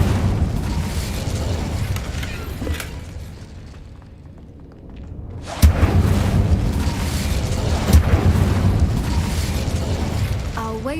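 Spell-casting from the wizarding game Hogwarts Legacy, the Incendio fire charm: a sudden sharp burst that swells into a sustained roaring, crackling rush of flame, loud and continuous with a second flare a couple of seconds later.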